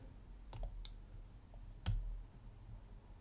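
A lock pick works the pins of a 15-pin Lips Octro 2 Star lock, giving a few faint, sharp clicks spaced irregularly against near silence.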